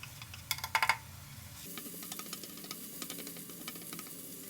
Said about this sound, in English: We put in the pot with the oil. We fry the onion.